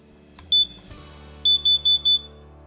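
A household carbon monoxide alarm sounds a single sharp, high electronic beep, then after a short pause four quick beeps in a row, clear and close against a quiet room.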